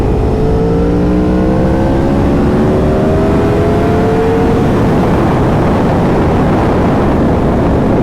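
A 600 sport motorcycle roll-on in fourth gear from 70 mph to about 6,000 RPM, its engine note climbing steadily under loud, constant wind rush that dominates once the pull ends.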